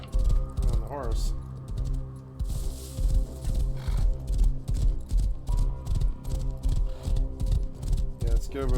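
Rhythmic clip-clop of horse hooves in a video game, with a whinny early on, over steady game music and background sounds.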